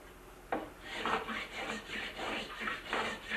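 Excess material is filed and scraped off a ski at a ski tuning shop in a steady series of rough rasping strokes, each about half a second long, moderately close and somewhat quiet.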